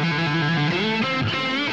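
An electric guitar played through a high-gain Neural Amp Modeler amp capture rings out with a heavily distorted, biting tone, holding sustained notes that shift pitch a few times in a short close phrase.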